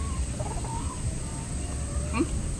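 A chicken clucks softly a few times amid background noise and faint chatter, the calls brief and somewhat distant.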